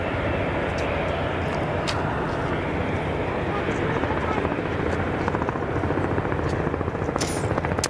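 Robinson R44 helicopter returning to Zurich Kloten airport, a steady rotor drone with a rhythmic low thumping that grows slightly louder toward the end, heard continuously without pause.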